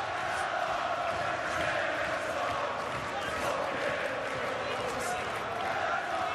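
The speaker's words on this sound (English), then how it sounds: "And the crowd getting behind Taylor" Boxing crowd roaring in support of a fighter during a bout, a dense, sustained wall of cheering and shouting from a large arena audience, steady throughout with no pauses.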